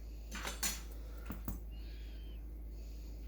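A knife slices through an apple on a cutting board for a garnish, giving two or three crisp, close cuts in the first second and a half before the sound drops to quiet room tone.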